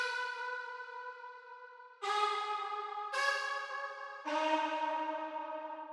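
Four sustained, pitched synth-like vocal hits in an electronic dance track, each entering sharply at a new pitch and ringing with rich harmonics, forming a counter melody to a vocal chop at a drop.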